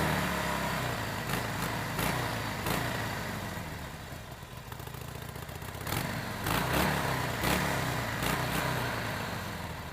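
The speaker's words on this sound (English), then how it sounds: "when you give it a little gas and rev it up, it gurs a little bit, a lot quieter," A 2012 Harley-Davidson 883 motorcycle engine idles with a low, fairly subdued rumble, dipping briefly before rising again as the throttle is blipped, with a few sharp clicks over the engine sound.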